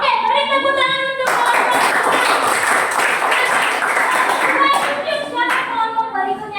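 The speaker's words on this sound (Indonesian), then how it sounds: "beri tepuk tangan untuk" Classroom group applauds a presenting group after their poster presentation, a dense burst of close clapping lasting several seconds, with speech before and after it.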